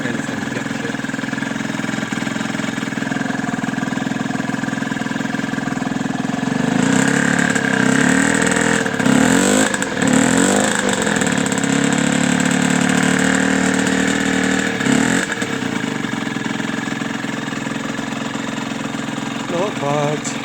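A Derbi Senda moped engine runs and idles steadily under rebuild, a continuous mid-pitched buzzing drone with a few brief rises in revs partway through, close and loud.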